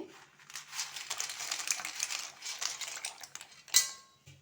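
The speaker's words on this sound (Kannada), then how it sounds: "ಇದರಲ್ಲಿ ಟೂ ಹಂಡ್ರೆಡ್ ಗ್ರಾಮ್ ಪಾಸ್ತಾ ಇದೆ ಇದನ್ನು ಆ್ಯಡ್ ಮಾಡ್ತೇನೆ" Dry pasta, 200 grams, is tipped into a cooking pot with a sustained rattling, clattering pour, ending in a sharp metallic clank and a brief soft shuffle, close and fairly quiet.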